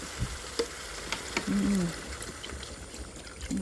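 Curry paste is stir-fried in a pan until dry, with soft scraping and stirring strokes over a low sizzle, a few clinks and a brief louder sweep partway through, and no voices.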